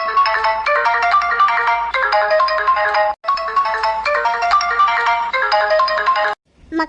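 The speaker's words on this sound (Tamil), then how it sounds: "ஃபோன் ரிங் ஆகுது" A mobile phone ringtone plays loud and close, a bright repeating melody that runs for several seconds, stops briefly, then rings again.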